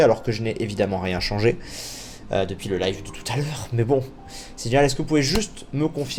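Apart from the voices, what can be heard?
None of the usual background noises is heard.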